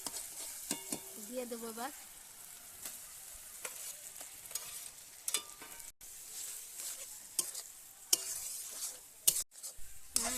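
Banana flower paste, boiled and ground, sizzles and fries in a pan while being stirred, with scraping strokes and clinks of a spoon against the metal throughout; a voice speaks briefly near the start.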